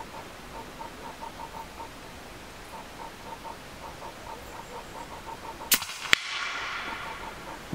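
Two sharp, loud shots ring out a fraction of a second apart from an EDgun Leshiy 2 production air rifle charged to 260 bar at a shooting range, preceded by faint rhythmic ticking and followed by a broad hiss.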